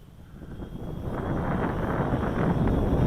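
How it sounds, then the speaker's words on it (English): Steady wind rushes outdoors and gradually swells into a constant, loud roar buffeting the microphone during a test flight of a small quadcopter, with no voices. "It is a bit windier now, so I really wanted a bit of wind to test it"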